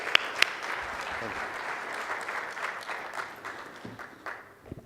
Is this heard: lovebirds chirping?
no